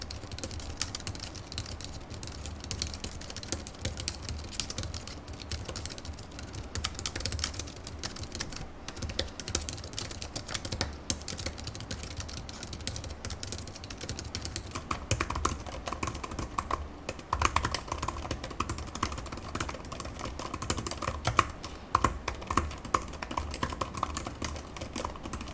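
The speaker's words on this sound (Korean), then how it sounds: "키보드 북커버는 부들부들한 느낌이 들고 매직 키보드는 쫀득쫀득한 느낌에 더 가깝다랄까" A Samsung Galaxy Tab keyboard book cover and an Apple iPad Magic Keyboard are typed on in steady, close bursts of soft keystrokes, the clicking continuous and fairly quiet, with the tone shifting slightly partway through.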